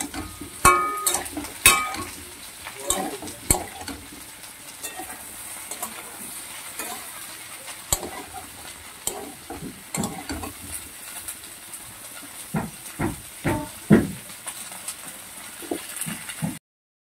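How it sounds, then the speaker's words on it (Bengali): Fried potato, pumpkin, onion and garlic tossed together in a pan for a prawn and pumpkin curry, a steady sizzle under repeated scraping and stirring strokes of a spatula, close and busy throughout. "আলু, কুমড়ো আর পেঁয়াজ রসুন সব যেগুলো ভেজে রেখেছিলাম সেগুলোকে দিয়ে দিচ্ছি একসঙ্গে। এগুলোকে ভালো করে ভাজতে হবে।"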